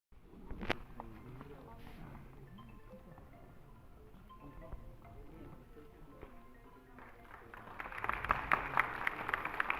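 An audience applauds at a city school cleanliness award ceremony, scattered taps and light clapping under background bustle, building into louder, denser applause near the end.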